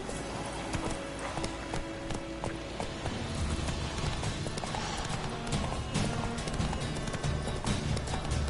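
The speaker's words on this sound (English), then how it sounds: "Run, Roach" Horse galloping in the video game The Witcher 3, a rapid continuous clip-clop of hooves with a faint whinny, loud and close over game background sound.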